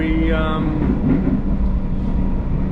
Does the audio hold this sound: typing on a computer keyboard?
no